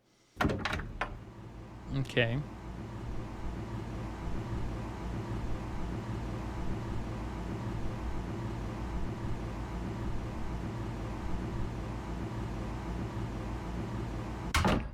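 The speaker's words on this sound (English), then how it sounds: "use a timer to measure the time between the door opening and closing" Door opening and closing in a recording, with sharp thumps and a rattle near the start, a long stretch of steady hum, and another thump at the end; a brief word is spoken early.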